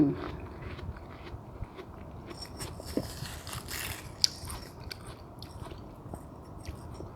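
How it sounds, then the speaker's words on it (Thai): Someone bites into cold watermelon and chews it close to the mic. Wet crunchy bites come in irregular bursts, with a few sharper crunches standing out over a faint background. "กินแตงโมน้ำกัน"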